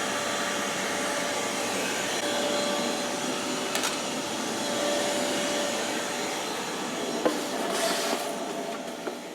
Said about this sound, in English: Put the shop vac on it.